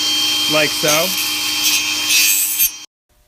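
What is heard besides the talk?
table saw cutting wood stock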